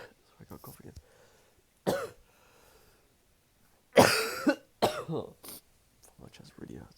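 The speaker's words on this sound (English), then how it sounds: "Sorry, I got a cough again." A person with a chest cough coughs in several short, harsh bursts spread through a quiet close-up room, with the loudest and fullest fit in the middle and softer breathing between.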